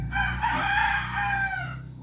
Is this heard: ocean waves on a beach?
no